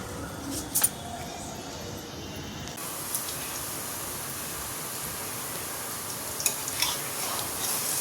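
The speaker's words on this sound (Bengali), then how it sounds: "রাতের তরকারি করবো বলে বড়াগুলোকে ভেজে নিচ্ছি।" Lentil fritters (bora) fry in hot oil in a pan, giving a steady hissing sizzle throughout, with a couple of brief knocks and clatters near the start and again toward the end.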